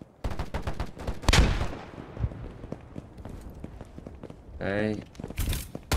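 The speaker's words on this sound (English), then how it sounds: "there's someone shooting at me" Gunfire rings out in the survival video game DayZ as a few sharp, loud shots mixed with footsteps, while players talk over the action.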